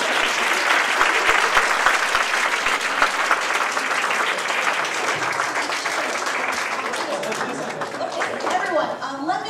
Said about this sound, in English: please give a big applause to